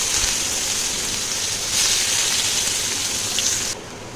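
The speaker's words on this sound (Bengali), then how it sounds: "পেঁয়াজটা ভালো করে ভেজে নেব।" Chopped onion frying in a pan as the base for a spicy fish curry: a steady, close, bright sizzle and hiss runs throughout, with a slight drop in intensity near the end and no talking.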